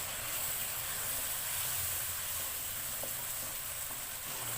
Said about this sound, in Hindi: इसको 5 मिनट के लिए हम मीडियम फ्लेम पे भूनेंगे।